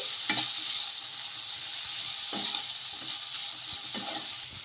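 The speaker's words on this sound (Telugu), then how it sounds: "ఇలా బాగా కలిపేసుకోవాలండి ఈ విధంగా కదా ఒక నిమిషం పాటు బాగా కలిపేసుకొని" A snack mixture is stirred in a hot pan, giving a soft, steady sizzle with a few scraping strokes of the spoon against the pan, fairly quiet and without talk.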